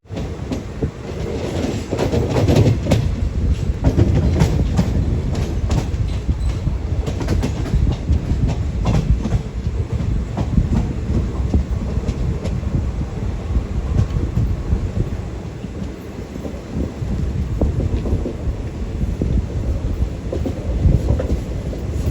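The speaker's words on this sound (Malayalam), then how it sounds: "ട്രെയിൻ ഇപ്പോൾ കൊല്ലത്തേക്ക് എത്തിരിക്കുകയാണ്" A Madurai to Punalur Express sleeper train nearing Kollam on a long curve: a loud, continuous rumble of wheels with steady rhythmic clatter, heard close from on board with no voices.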